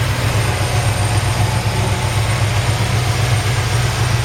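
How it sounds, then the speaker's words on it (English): A crate 350 V8 in a 1963 Chevrolet C-10 pickup idles steadily, a loud, close, continuous low rumble with no voices over it. "It's just a crate 350 engine."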